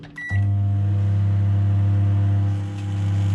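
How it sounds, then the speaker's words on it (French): A microwave oven heating gel toothpaste gives a steady, loud low hum after a brief clatter at the start, droning on with no voices. "On met notre dentifrice au micro-ondes par tranche de 30 secondes."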